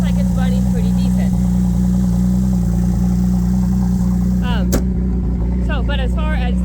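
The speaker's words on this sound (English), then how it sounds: "It does have a louder exhaust, so you'll hear that." A 2017 Chevy Traverse with a 3.6 engine idles with a loud exhaust, giving a steady, close, heavy drone throughout while someone talks over it.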